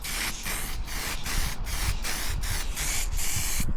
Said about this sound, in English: We've got his aerosol, so we're going to put on that first thin coat of silver.